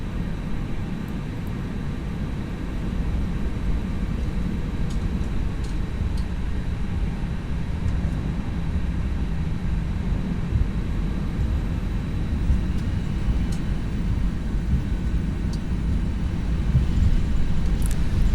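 An Airbus airliner taxiing in X-Plane 11 with its APU running, heard as a steady, low rumbling engine drone with a constant high whine that holds evenly throughout, no voices.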